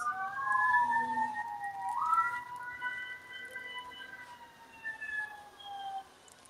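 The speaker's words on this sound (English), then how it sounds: "do y'all hear those sirens?" Police sirens wailing in the distance outdoors, their rising and falling tones overlapping as the vehicles seem to draw closer, moderately faint with no talk over them.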